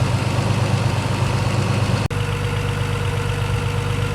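A car engine idling steadily with a fresh turbo blanket fitted, a constant mid-low hum with one brief dropout partway through, no voices.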